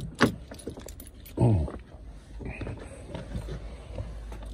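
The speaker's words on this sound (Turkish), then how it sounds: "Kontağı takıyoruz." Volkswagen car key jangling and being pushed into the ignition inside the car, a bright metallic rattle followed by a louder jingle and a clunk, close up over low background hum.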